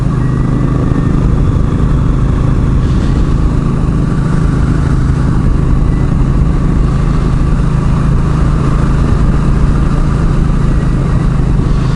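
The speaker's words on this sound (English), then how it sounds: "This bike is not a powerhouse, but it's plenty fast enough for what I'm doing." A small, low-powered motorcycle rides on hilly, twisting roads, its engine droning loud and continuous with steady rumble and wind noise throughout, no voices.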